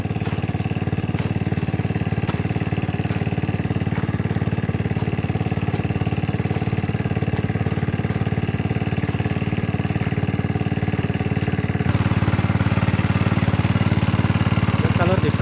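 A small mini rotary cultivator engine runs steadily while plowing a wet field, a loud continuous chugging drone nearby that shifts slightly in tone partway through, with someone talking over it.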